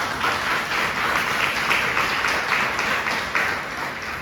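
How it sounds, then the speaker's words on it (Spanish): A church congregation breaks into strong, continuous applause during a sermon, a dense sustained clatter of many hands with no speech over it. "Denle otro fuerte aplauso, Señor."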